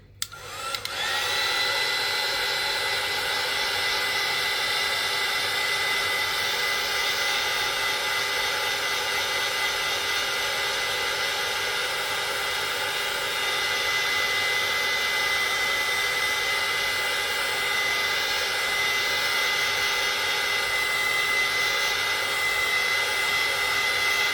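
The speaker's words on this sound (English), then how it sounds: "I'm gonna hit this again with my heat gun" Heat gun blowing hot air over a small mini art painting, a steady, loud whooshing roar that runs unbroken from start to finish with no talking.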